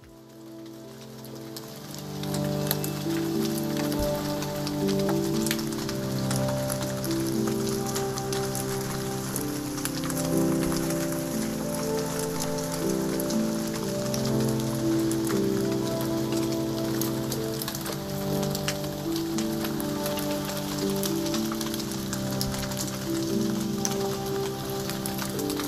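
An Endel rain soundscape mixed for spatial audio plays as steady, dense rainfall pattering on surfaces, with a soft ambient musical drone beneath it, continuous and even throughout.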